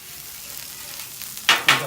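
Sausage frying on a hot flat tray, with a steady low sizzle that flares into two louder bursts of crackle near the end.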